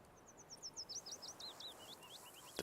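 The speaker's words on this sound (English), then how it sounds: "The birds, window over the water." Birds chirp and tweet near water in a countryside setting of The Witcher 3, a string of bright, repeated calls sliding in pitch over a faint ambient hiss, with no voices.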